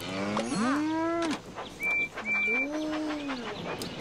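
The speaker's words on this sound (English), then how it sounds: "We got some moo cows." Cows moo twice in the Thomas and Friends Magical Tracks mobile game, two long rising-and-falling calls close up, with brief chirpy bird-like game sounds between them and no talk.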